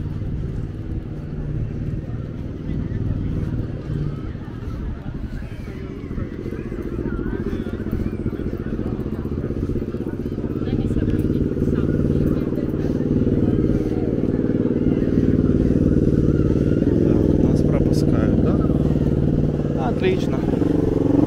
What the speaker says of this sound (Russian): Мотоциклисты полно. Призрачные гонщики.